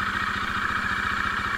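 Bajaj Dominar motorcycle engine running just after a cold start, a steady, close, rhythmic idle thumping with a constant mechanical whir on top, no talking.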